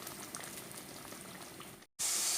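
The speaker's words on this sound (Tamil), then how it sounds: "இந்த தக்காளி பச்சை வாசனை போகிற வரை நல்லா கொதிக்க விட்டுடலாம்." Steady bubbling and sizzling of a thick tomato-based soya chunk gravy simmering in a pan, continuous and close, cutting out briefly near the end before resuming louder.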